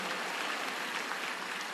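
Congregation at a church service clapping, a dense, steady wash of many hands applauding at moderate distance, continuous and even without individual claps standing out, no voices over it.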